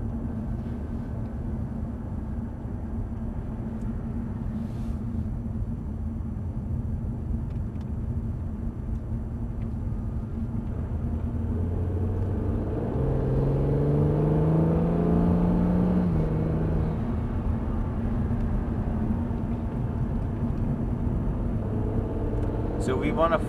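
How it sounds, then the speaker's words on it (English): The hybrid gas engine of a Honda NSX cutting in while driving, a low engine drone that swells and rises in pitch midway through, mostly under people talking inside the car. "Or if you push more the throttle, then gas engine comes on."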